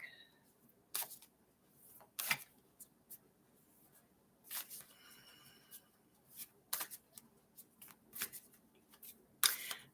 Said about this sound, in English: I'm going to go ahead and shuffle the deck.